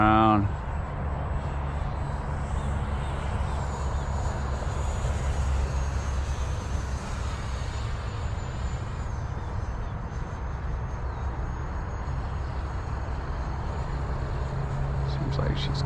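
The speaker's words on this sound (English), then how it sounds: "She climbs up plenty quick. Bring her around." An FMS F-16 Fighting Falcon 64mm EDF model jet flying overhead, giving a steady loud ducted-fan whine and rushing roar that holds fairly even throughout, with wind buffeting near the mic.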